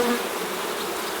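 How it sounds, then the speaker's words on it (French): Honeybees clinging together on a hive frame make a dense, steady buzz, close and loud, with no talking. "les abeilles se tiennent les unes aux autres"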